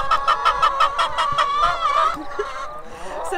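A flock of chickens on a farm in Deisendorf, several hens clucking in a quick, rhythmic run of calls close by that trails off into quieter scattered sounds.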